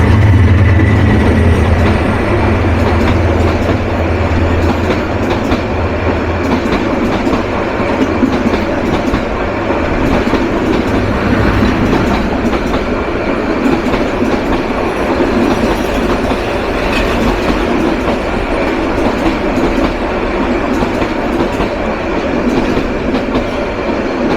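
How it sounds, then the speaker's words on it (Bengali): The Upaban Express, an intercity train running from Dhaka toward Sylhet in Bangladesh, passes loudly and close by, a continuous rumble with rhythmic clickety-clack of wheels over rail joints and occasional squeal, sustained throughout. "ঢাকা থেকে সিলেট অভিমুখী আন্তনগর উপবন এক্সপ্রেস।"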